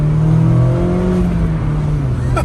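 2025 Mazda Miata Club ND3 engine accelerating from inside the cabin, a rising tonal engine note climbing in pitch over a couple of seconds, close and steady, with no talking.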